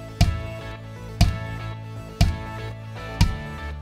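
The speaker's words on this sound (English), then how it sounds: "It can simply be playing 4 notes on the bass drum that sounds like this." Four evenly spaced bass drum hits played with a kick pedal, each a deep, punchy thump about a second apart with a short ringing decay, close and alone.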